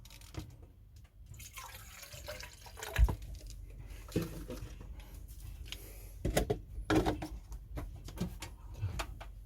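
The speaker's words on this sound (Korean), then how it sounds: "여기에다가 물 넣어서 한번 끓여보도록 하겠습니다" Water going into a 12V heated travel tumbler, heard as faint, close trickling and dripping with a few soft knocks and clunks, and no voices.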